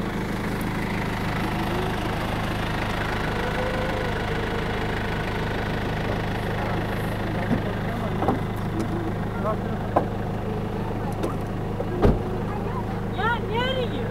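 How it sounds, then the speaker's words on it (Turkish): A car engine idles steadily in the background, a low continuous hum with a faint knocking pulse, while people talk intermittently nearby. "Araba da çalışıyordu, motor sesi geliyor"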